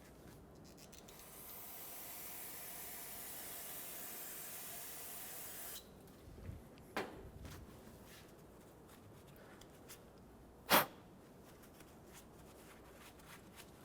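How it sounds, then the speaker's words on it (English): Brake parts cleaner hisses from an aerosol can onto the rear brake caliper area of a 2000-2005 Ford Excursion in a steady spray lasting several seconds, followed by a few faint clicks and a sharp knock. "You could even use brake parts cleaner to rinse it off."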